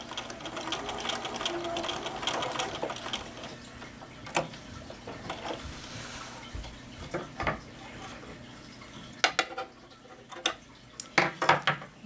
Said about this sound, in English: you turn it and you stitch directly into the corner